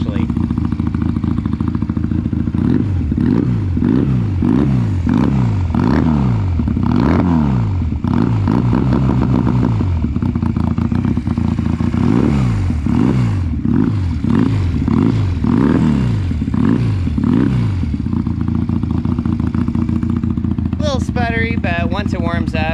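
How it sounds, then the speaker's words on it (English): A Honda Rebel 250 motorcycle in a budget urban scrambler build idles and blips at low RPM with a deep, loud, uneven pulsing exhaust note that rises and falls repeatedly, close to the mic, with speech heard over it. "This bike say that it sounds like a 600cc crotch rocket coming down the road."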